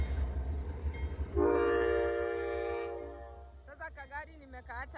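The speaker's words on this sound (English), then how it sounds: "Siwezi enda hivyo mpaka train iishie." A train passes a railroad crossing in snowy Minnesota, sounding a loud, sustained horn blast over its low rumble before a person starts talking near the end.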